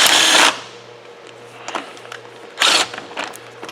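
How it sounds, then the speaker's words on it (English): An Earthquake 3/8-inch impact wrench removes a tire's lug nuts in two short, loud bursts of rattling hammering, separated by quieter clicks and handling noise close by. "got the Earthquake 3/8 impact here"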